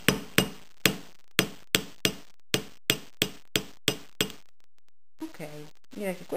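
Hammer blows during a craft job making a decorative piece with a ball and a spiral detail: about a dozen sharp, evenly spaced strikes, close and crisp, then a pause before a person starts talking.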